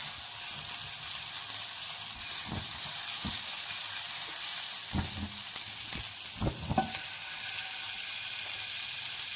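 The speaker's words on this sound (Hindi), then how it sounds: "अब हम पैन में अपने सबसे पहले बटर इसमें डालेंगे। इसमें ये बटर जाएगा।" Butter sizzles in a hot pan for chicken malai buti, a steady close hiss of frying with a few faint clinks and taps mixed in.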